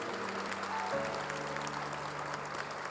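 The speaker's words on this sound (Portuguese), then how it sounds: "Pode aplaudir o Senhor que te alcança." A congregation at Mass applauds, a soft, spread-out patter of many hands over a sustained instrumental tone held underneath.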